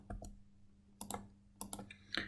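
Short bursts of typing on a computer keyboard, a few quick clustered key clicks repeated three or four times, close and fairly quiet.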